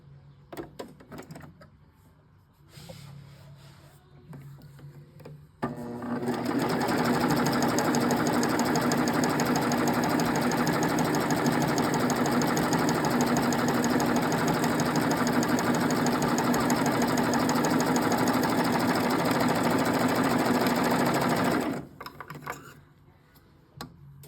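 Serger sewing machine stitching a decorative serged seam: a steady, loud, fast mechanical whir with rapid ticking runs for about sixteen seconds, starting and stopping abruptly, with quieter handling noise before and after.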